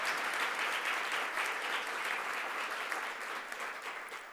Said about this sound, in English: Let's give a round of applause for Roland.